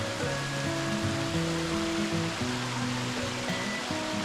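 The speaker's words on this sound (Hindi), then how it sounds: "बीच बीच में झरने भी आ रहे हैं हमारे।" Mountain stream and small waterfalls along a high-altitude trail on the Roopkund trek, a steady close rush of flowing water with faint tonal hums layered over it, no talking.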